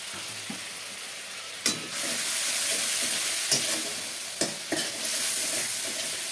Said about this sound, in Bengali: কষানোর মধ্যে অল্প একটু দিয়ে দেবো জল।